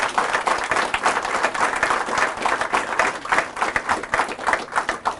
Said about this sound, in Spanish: Fuertes aplausos, Jesús.